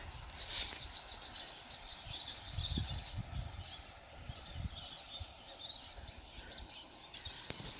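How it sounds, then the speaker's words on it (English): Birds chirp and twitter steadily in the distance, a bright outdoor chorus with soft rustling and a few nearer low thumps. "So many birds."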